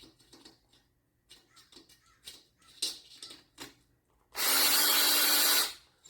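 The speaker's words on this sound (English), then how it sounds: "You really want to try and get the drill perpendicular" After some quiet tapping, a power drill whirs loudly and steadily for just over a second while working on a bicycle front disc wheel near the spoke nipples, then stops.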